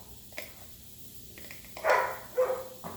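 A dog barks and whines a few times at a moderate distance, short yelping bursts separated by quiet pauses.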